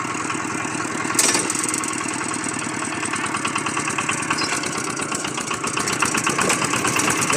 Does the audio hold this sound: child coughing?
no